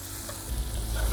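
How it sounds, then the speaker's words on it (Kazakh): Kuyrdak meat frying in a kazan is stirred, a soft bubbling sizzle with a low scraping rumble as the pieces are turned, close by and steady with no talk. "Араластырып қояйық."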